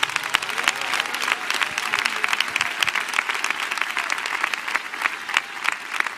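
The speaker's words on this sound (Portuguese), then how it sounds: "pode bater as palmas para Jesus." A church congregation claps for Jesus, a lively, fairly close burst of many hands with sharp individual claps standing out from the dense patter, continuing throughout.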